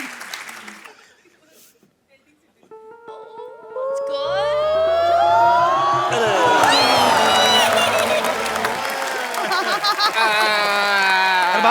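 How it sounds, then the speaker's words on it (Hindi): A comedy show studio audience breaks into loud applause and cheering with whoops, swelling after a quiet start and mixed with bright musical stings and voices. "जोरदार तालियां फॉर द नेक्स्ट प्लेयर।"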